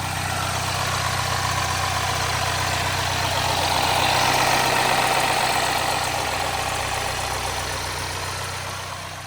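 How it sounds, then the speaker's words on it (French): A 2013 BMW 118i F21 M Sport engine idles after a restart, a steady close low hum with a faint rise and fall in loudness over several seconds. "Donc j'ai redémarré le moteur."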